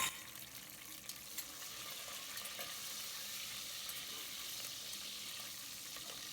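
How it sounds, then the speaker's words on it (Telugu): Cashews, a bay leaf and green chilies frying in hot oil, a continuous faint hiss and sizzle with a few small pops, no talking. "ఇలా ఆయిల్ హీట్ అయిన వెంటనే ముందుగా ఈ జీడిపప్పు, అలాగే ఈ బిర్యానీ ఆకు వేసి ఇలా ఒక్కసారి ఫ్రై చేసుకుందాము."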